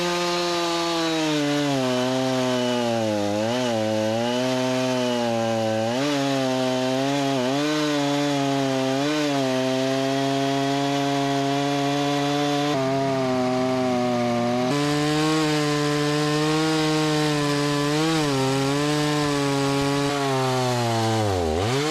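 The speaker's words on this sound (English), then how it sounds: "we're going to see if the old 12 horsepower Kohler can make the cut" A homemade sawmill powered by an old 12 horsepower Kohler engine cuts through a log that has sat about three years. The engine drones loudly and steadily throughout, its pitch sagging and recovering as the blade bites, with no talking.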